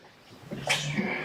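A single short sneeze, close and fairly soft, ending in a breathy hiss.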